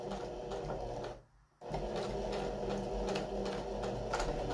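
Sewing machine stitching across braided cord on a pillow panel, a steady mechanical hum with a brief pause partway through, close and unbroken.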